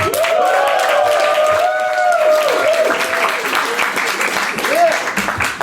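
Loud, dense applause and cheering from a comedy club audience in Bushwick, sustained throughout with whoops rising over the clapping.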